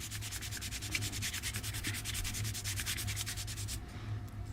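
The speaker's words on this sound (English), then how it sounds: "Now I'm just going to start sanding to test this theory with you." Rapid back-and-forth hand sanding of a plastic model kit stand scrapes steadily and close up, a rhythmic gritty rasp over a low hum that pauses briefly near the end.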